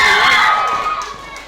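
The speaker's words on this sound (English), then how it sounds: "this crowd are coming unglued now" A wrestling crowd roars and cheers wildly at a live show, a dense loud wall of voices that swells at first and then slowly eases off.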